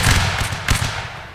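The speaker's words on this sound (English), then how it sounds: "Good volley." A musket volley in a Napoleonic Wars line battle game: several overlapping, muffled booming cracks that swell at the start and again near the middle, then fade out.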